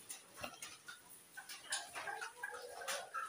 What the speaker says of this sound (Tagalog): Yan po yung ating mga pabo.